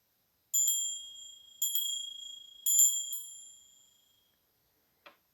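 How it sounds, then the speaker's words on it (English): A bell is struck three times, each bright ringing tone loud and clear before slowly decaying, followed by a brief soft tap near the end. "we're gonna ring the bell here"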